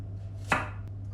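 A single sharp knife chop through fresh garlic on a cutting board, close and crisp against a quiet kitchen hum.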